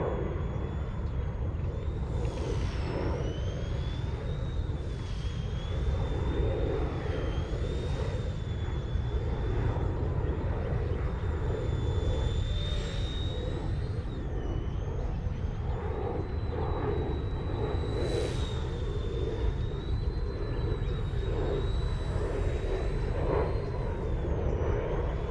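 An Eachine E129 beginner RC helicopter flies fast at high rates, its small electric motor and rotors whining steadily throughout with rising and falling pitch as it maneuvers.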